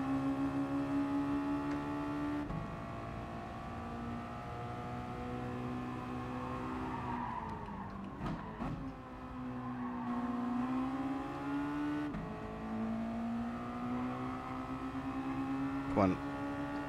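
A Mazda MX-5 race car in a touring car league at Bathurst climbs the mountain, its engine droning steadily with gear changes and shifting pitch, heard from onboard.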